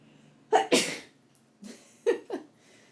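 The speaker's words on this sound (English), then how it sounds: "Core work makes me sneeze." A person sneezes once during a yoga core exercise with a short sharp burst, followed by several softer breathy sniffs and exhales spaced out over a few seconds.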